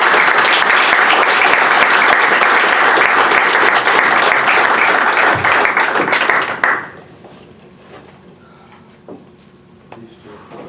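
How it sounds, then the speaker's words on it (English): Loud applause from an audience at a black belt martial arts exam, dense steady clapping for about seven seconds that cuts off abruptly, leaving a quiet room with a few faint knocks. "Everyone give them one more round of applause."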